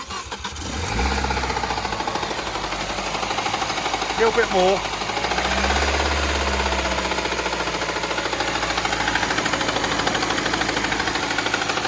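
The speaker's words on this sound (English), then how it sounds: "Definitely a big end knock" A Peugeot RCZ 2+2 coupe engine starts and is held at raised revs with a big end knock, a loud continuous rattly drone that swells and eases, and someone speaks briefly over it.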